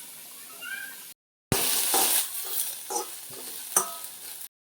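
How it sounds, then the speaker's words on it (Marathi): Boiled potatoes being mashed in a bowl, a run of soft wet squelches and dull presses with scraping in between, close and fairly loud after a short silent gap, with no one talking. "तोवर आपण हे बटाटे स्मॅश करून घेऊ."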